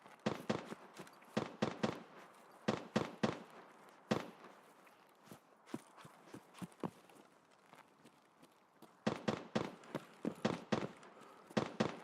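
Distant gunfire from Escape From Tarkov, with sharp cracks in rapid bursts and scattered single shots across a quiet, far-off background; the volleys cluster at the start and end.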